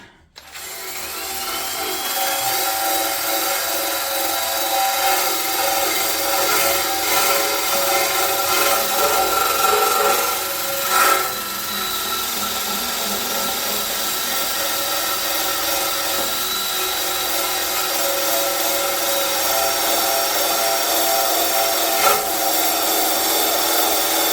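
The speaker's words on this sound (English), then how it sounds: "So let me find a wire brush and a drill. Let's brush it." A power drill spins a wire brush against a metal pulley from a Honda GX390 engine held in a vise, a steady harsh whirring scrub that runs on loudly and evenly for a long stretch.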